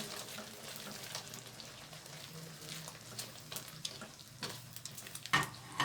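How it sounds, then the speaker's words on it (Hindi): Yogurt is stirred into simmering taro (arbi) curry in a pot: a quiet, low bubbling sizzle with soft, irregular scrapes and clinks of the spoon, a few sharper knocks near the end. "अब हम इसमें डालेंगे दही। इसे अच्छे से मिक्स कर लेंगे"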